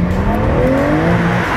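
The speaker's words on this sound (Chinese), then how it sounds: "我哋都可以感受一下呢個引擎嘅動力先嘅" A BMW M3 G80 Competition with a 510-horsepower engine and rear-wheel drive accelerates hard on a mountain road, its loud, close engine note climbing steadily in pitch without a pause.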